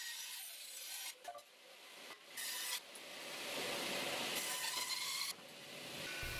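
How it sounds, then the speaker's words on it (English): A bandsaw cuts through wood for an outdoor table build, a steady broadband rasp with brief dips and restarts between passes, fairly close and unaccompanied by talk. "With the bandsawing done,"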